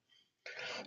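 A single sharp cough bursts out after a brief quiet stretch, close and fairly loud, with a raspy, noisy quality.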